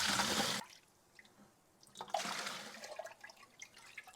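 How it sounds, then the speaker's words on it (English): Whey scooped and poured during home cheesemaking for a raclette-style cheese, a loud liquid splash at the start followed by quieter trickling and dribbling sounds close by. "I'm going to scoop out this whey so I can pour it the rest of the way"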